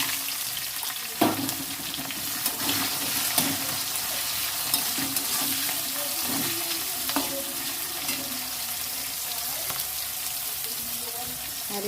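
Meat and onions fry in oil with bay leaf, cloves, cinnamon and cardamom, giving a loud, continuous sizzle close by, broken by occasional scraping and clanking stirs in the pot.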